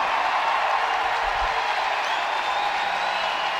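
A hockey arena crowd roars after a Michigan Tech goal late in the third period, with a steady, dense wall of cheering and noise that holds at full strength throughout.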